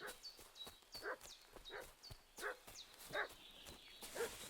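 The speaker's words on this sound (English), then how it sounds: "Oh, dog barking." A dog barks repeatedly in a medieval village setting in Kingdom Come: Deliverance 2, sharp evenly spaced barks at moderate distance, with horse hoof clops and faint ambient sounds beneath.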